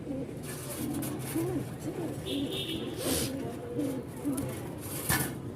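Pigeons cooing at a pigeon seller's stall in Mirpur-1, Dhaka, with soft repeated low coos running steadily under ongoing talk and a brief higher chirp partway through.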